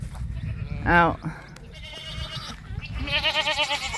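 Sheep bleating on a small farm, one loud close wavering bleat followed by fainter and then trembling bleats from the flock, with a person speaking briefly nearby.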